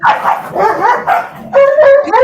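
A dog barks and yips in a quick string of bright, loud calls, the last ones drawn out into a whining tone, close by with no talk over them.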